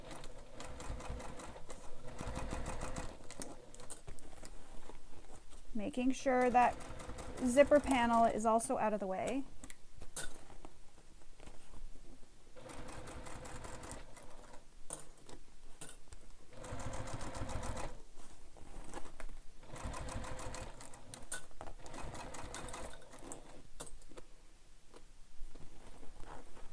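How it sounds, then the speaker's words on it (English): A sewing machine stitches around a handbag in short, rapid whirring bursts, with one longer run near the start, between stretches of quiet talk. "I'm taking my time to sew around the entire bag"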